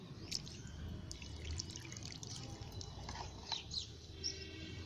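Water is poured onto the soil in a zinnia flower pot, giving a soft, steady trickle with scattered drips and splashes at low volume.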